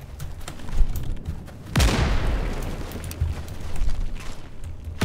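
STG-44 fired full auto in the Roblox game Unit 1968: a booming burst of rapid gunfire near the start, followed by a loud sharp blast with a long ringing tail, then scattered distant shots.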